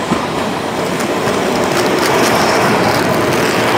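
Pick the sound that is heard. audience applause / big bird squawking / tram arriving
tram arriving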